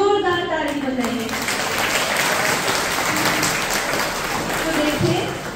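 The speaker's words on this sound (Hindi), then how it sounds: "आप उनके लिए जोरदार ताली बजाइए।" Audience at a Diwali celebration in a Brahmakumari hall gives sustained, dense applause lasting several seconds, following a brief spoken voice at the start.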